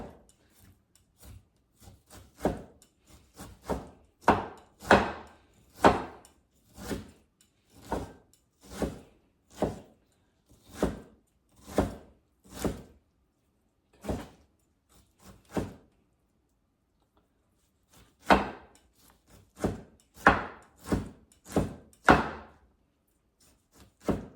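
Pork ribs chopped with a cleaver on a wooden board for a pickled cabbage dish, a steady series of sharp, loud knocks in irregular bursts with a short pause midway.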